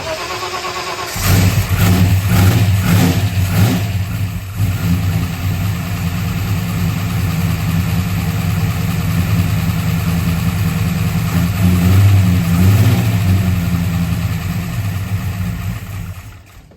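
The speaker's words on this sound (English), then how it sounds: "Definitely doesn't like to idle when it's cold" A 1964 Mercury Comet Cyclone V8 engine, cold, fires up after a brief pause and settles into a loud, rough, uneven idle with lumpy pulsing that continues steadily up close.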